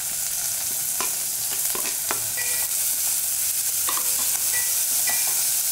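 Shallots, curry leaves and dried red chillies sauté in hot oil for mango sambar, a steady close crackling sizzle with scattered sharp pops and occasional scrape of a spoon stirring the pan.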